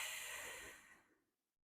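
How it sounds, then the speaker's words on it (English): A single deep breath out, a close, breathy exhale that fades away to silence in under two seconds. "Deep breath out."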